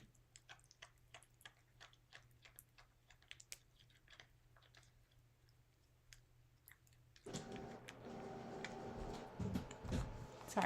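A printer whirs to life after a stretch of soft, rhythmic clicking, then runs with a steady, fairly close mechanical hum and rattle that continues to the end.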